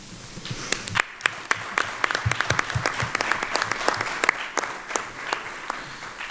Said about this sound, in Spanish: os pido que nos demos un aplauso